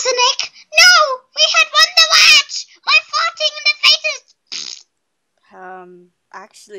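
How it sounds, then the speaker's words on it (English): A fart sounds among lively, high-pitched talking voices, heard as a short, low, buzzing burst near the end after the chatter pauses. "Did you hear the fart?"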